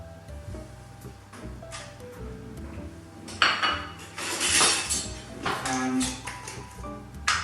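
A spoon clinks against a bowl while spices are mixed into oil and maple syrup for granola, with scattered bright taps and scrapes that grow louder midway, with no talking.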